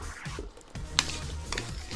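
Spaghetti sauce being mixed in a pan, soft wet stirring and light sizzling with a spoon tapping against the pan once or twice, quiet and close.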